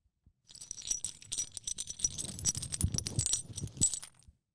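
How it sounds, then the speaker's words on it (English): Glass clinking, a busy cluster of bright, close tinkling and rattling taps that runs for a few seconds and then stops, with no talking. "Here's the sound of the clinking glass."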